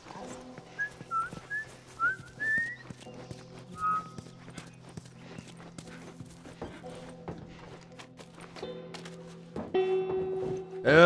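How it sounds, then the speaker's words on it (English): A character in The Last of Us video game whistles a short, wavering melody early on, faint against clip-clopping horse hooves and ambient game sounds, followed by a brief tonal phrase later. "I'm whistling."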